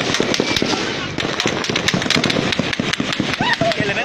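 Rapid, irregular bursts of gunfire, sharp cracks and pops, dense and loud, with crowd noise and shouting mixed in, during an attack on a police base.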